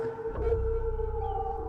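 A long, wavering wolf howl holds a steady pitch for under two seconds, eerie and moderately faint against a low rumble.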